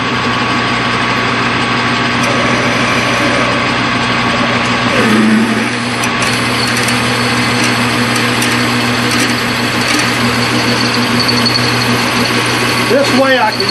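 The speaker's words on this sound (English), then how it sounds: "drill this here handle out to a 1/2 inch" Drill motor running steadily while boring out a Kurt vise speed handle to a 1/2-inch hole in a shop, a continuous close whine with a strained change in pitch partway through.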